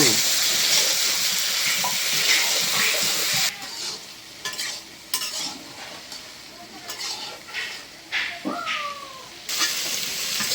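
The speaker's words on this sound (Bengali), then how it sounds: "বেগুনগুলি ভাজা হয়ে গেছে" Eggplant pieces fry in hot oil, a dense close sizzle that dominates the first few seconds, then continues more softly beneath stirring clatter, with a cat meowing briefly near the end.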